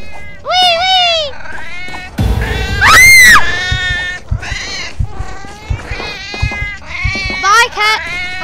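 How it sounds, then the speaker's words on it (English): A cat in the Nextbots video game meows repeatedly in rising and falling calls, fairly loud and close, interspersed with other noisy game sounds. "A cat just went on the roof."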